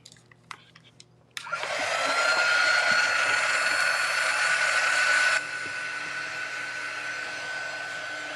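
A blow dryer runs on a craft tiered tray piece, switching on abruptly with a loud steady whoosh that holds, then eases to a slightly lower setting and keeps going alone, with a few faint clicks before it starts.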